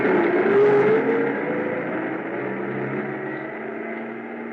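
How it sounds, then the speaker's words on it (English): A truck engine drones as the vehicle pulls away through snow, a steady broad rumble that starts loud and slowly fades as it recedes, with no voices. "I stood there in the snow watching the headlights of the truck move away"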